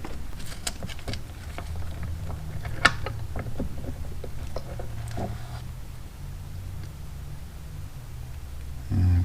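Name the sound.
pulling gear assembly out of 1984 Shadow 500 crankcase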